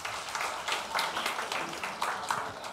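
Audience applause at a political forum in Taipei: a short, even burst of many hands clapping from a mid-sized crowd, steady throughout without a clear peak.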